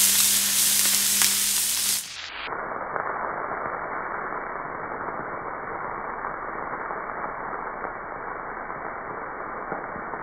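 Octopus fries in a hot pan, giving a steady, close, continuous sizzle that stays even throughout with no speech.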